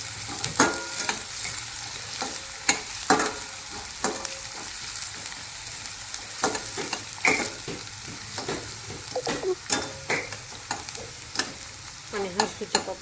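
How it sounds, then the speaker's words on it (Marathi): Onion and cumin sizzle in hot oil in a kadhai while a spoon stirs and scrapes in steady, uneven strokes, close and moderately loud with no talking. "कढईमध्ये तेल तापवलं, जिरं टाकलं आणि कांदा टाकला"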